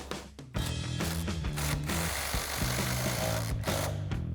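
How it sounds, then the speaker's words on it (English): An impact wrench with a 22 mm socket tightens the strut nut on a 2015-2025 Mustang C&L CX2 front strut, firing several loud, close, rattling hammering bursts in quick succession after a brief quiet start. "Grab our impact and 22 millimeter socket and tighten that down."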